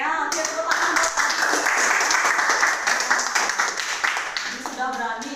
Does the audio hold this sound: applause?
yes